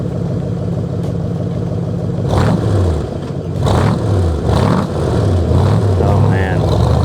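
A silver 1966 Chevrolet Corvette C2 drives past outside and revs its engine several times, each rise and fall loud and close.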